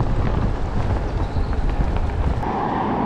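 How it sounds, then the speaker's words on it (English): Strong wind buffets the microphone while cycling along the Union Canal on a long Glasgow to Edinburgh ride, a loud continuous roar with gusty fluctuation throughout and no speech. "Battling into a bloody wind."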